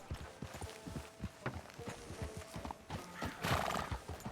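Horse hooves clip-clop at a walking pace, joined by a horse neighing near the end, in Red Dead Redemption 2.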